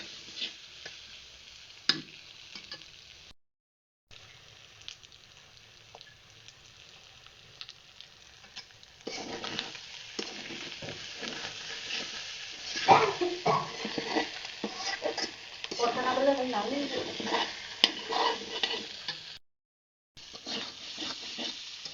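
Onions frying in a pan for a fried beef dish, a soft steady sizzle with frequent scraping and stirring strokes, close but fairly quiet, with brief gaps of silence.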